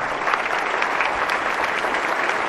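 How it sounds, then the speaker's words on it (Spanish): A theatre audience gives strong applause as a guest is introduced, dense continuous clapping filling the room at steady loudness with no speech. "Recibamos con un fuerte aplauso a don Justino Samperio."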